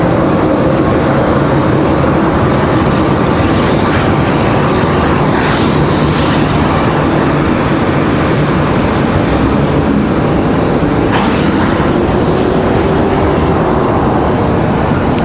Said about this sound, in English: American 174 Heavy getting ready to get a move on.